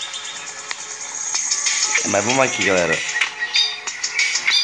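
Dense high chirping and trilling from a small bird runs throughout, with someone speaking briefly over it midway.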